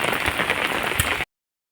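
Rain patters steadily on surfaces in a village, a dense close hiss with occasional heavier drops, cutting off abruptly after about a second.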